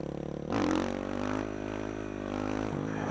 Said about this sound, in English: let's do a wheelie on the bridge